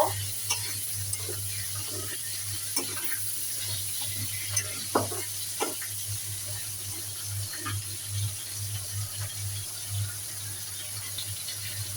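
Fish sizzling in hot oil after being flipped make a soft, continuous hiss with small crackling pops, set against a steady background hum.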